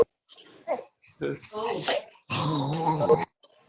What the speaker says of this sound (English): Kara, your dog is so cute.